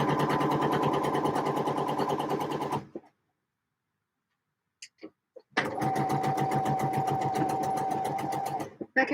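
A sewing machine stitches a dress seam in two loud, steady runs of rapid needle chatter, split by a pause holding only a few faint clicks before the stitching starts again.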